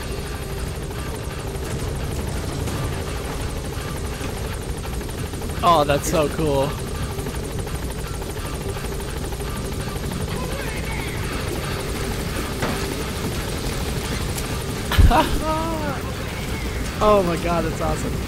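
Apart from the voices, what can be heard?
support helicopter arriving in the video game Metal Gear Solid V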